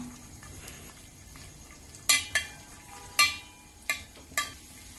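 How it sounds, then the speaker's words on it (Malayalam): Cashews and raisins roasting in ghee in a metal uruli, with a faint sizzle under several sharp clinks and scrapes of a spoon stirring against the pan. "അണ്ടിപ്പരിപ്പിന്റെ കളർ മാറി തുടങ്ങുമ്പോൾ ഇതിലേക്ക് ഉണക്കമുന്തിരിയിട്ട് വറുത്തെടുക്കാം."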